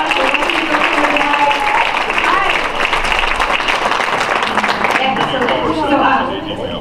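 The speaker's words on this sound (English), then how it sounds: "give yourselves a big round of applause." A poetry festival audience in Florence, Oregon applauds loudly and steadily from start to finish, a dense wash of many hands clapping together. Scattered cheers and voices mix in, and the applause eases slightly only at the very end.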